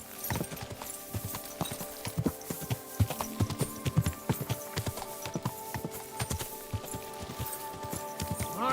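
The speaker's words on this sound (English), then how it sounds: "My, what a beautiful horse!" Steady hoof clip-clops on a hard surface, a horse walking at a relaxed pace in the video game Kingdom Come: Deliverance II, close and fairly loud with faint background sounds.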